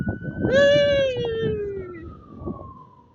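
A siren wails in the distance, its tone sliding slowly downward over a low background rumble of traffic.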